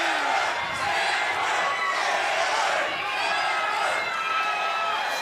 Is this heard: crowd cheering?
yes